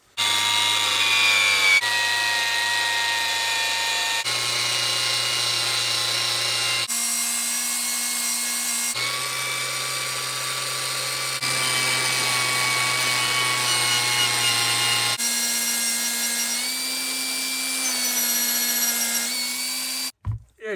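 A power grinder polishes a tarnished King Dick wrench, a steady high whine with shifting pitch as the metal is pressed on and off the wheel in several passes, close and loud without talk.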